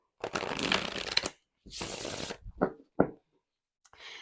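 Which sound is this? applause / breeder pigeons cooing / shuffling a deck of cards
shuffling a deck of cards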